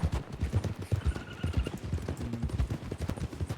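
Horse hooves pound in a fast galloping rhythm in a Western video game, close and loud, with a brief neigh partway through and no talking.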